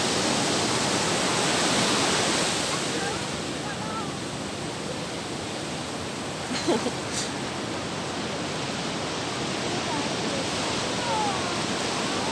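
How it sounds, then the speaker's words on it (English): Shower water running steadily, a loud broadband hiss of spray that eases slightly after the first few seconds, with a faint brief knock partway through and no talking. "I think I need to have a shower now"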